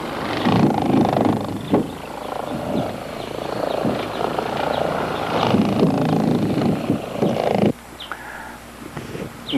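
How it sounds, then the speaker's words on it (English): A buffing wheel spreads a KISS polymer coating over a surface, giving a loud, close, steady motor whir that drops out briefly near the end before resuming. "now we're going to use the buffing wheel to spread this material"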